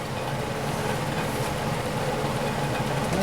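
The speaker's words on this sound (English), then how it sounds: "the fan that you hear is my air filtration" A steady, broadband air filtration fan hum drones evenly at close range in a workshop during a Chevy engine build, with no breaks or talking.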